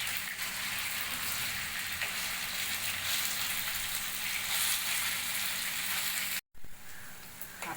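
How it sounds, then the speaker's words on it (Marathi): Vegetable kofta shallow frying in oil give off a loud, continuous close-up sizzle and crackle that runs unbroken until a brief cut near the end. "हे आता मी शॅलो फ्राय करून घेतली आहे."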